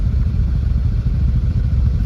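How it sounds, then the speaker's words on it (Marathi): A JCB excavator works at a roadside site on a coastal ghat road, its mid-pitched diesel engine chugging loudly and steadily up close with faint clatter, no voices. "हे बघा मित्रांनो आता इथं चाडवायचं काम चालू आहे JCB गाडी."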